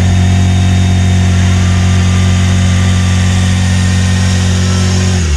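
A 2021 BMW K1600 Grand America motorcycle's engine hums loud and steady with a constant droning tone as it runs in reverse, heard up close with no talking.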